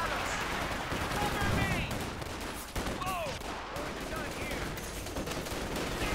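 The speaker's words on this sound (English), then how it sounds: "Bit of shooting there" Sustained gunfire in Company of Heroes 2, with rapid machine-gun bursts and rifle shots in a dense, continuous battle mix at steady loudness, while a commentator talks throughout.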